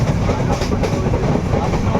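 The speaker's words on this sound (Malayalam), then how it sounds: "പക്ഷെ ട്രെയിനിൻ്റെ മ്യൂസിക് നിങ്ങൾ കേൾക്കും" A train runs on rails in a continuous loud, low rumble, heard close up with a faint rhythmic clatter over the brief stretch.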